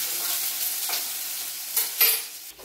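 Onions and greens fry and are stirred in a kadai, with a steady sizzle underneath and a few louder scraping stirs near the end, close and alone.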